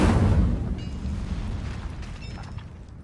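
An Incendio fire spell bursts in the video game Hogwarts Legacy with a loud, rumbling whoosh. The sound hits at once and slowly fades over a few seconds.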